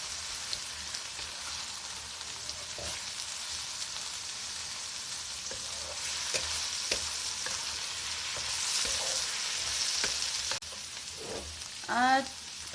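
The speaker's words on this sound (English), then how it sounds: "I'm going to add minced garlic." Minced garlic fries in a pan for a spicy sweet baby octopus stir-fry, giving a steady close sizzle with scattered light clinks of stirring and a brief louder scrape near the end.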